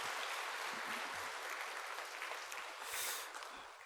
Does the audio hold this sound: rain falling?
no